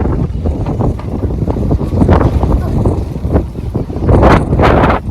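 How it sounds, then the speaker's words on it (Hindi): Strong wind roars and buffets the microphone continuously, with gusts rising and falling over a rumbling background. "इधर काफ़ी तेज़ हवा है ना"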